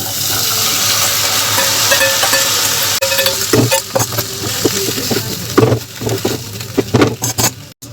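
Boiled chana dal hits a hot pan of sizzling grated ginger and is stirred, a loud close frying hiss with scraping spoon strokes that turns choppier toward the end.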